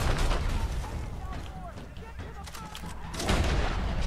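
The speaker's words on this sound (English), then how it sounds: "there's a bunch of miniguns out there" Heavy gunfire and booming blasts in a Red Dead Redemption 2 bounty-hunting shootout with miniguns, loud bursts at the start and end with quieter rumbling between, while players talk over it.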